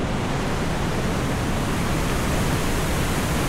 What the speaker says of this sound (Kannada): ನೀವು ಅಬ್ಸರ್ವ್ ಮಾಡ್ಬೋದು, ಭಾಳ ಫೋರ್ಸಿಂದ ಬರತೈತಿ ನೀರು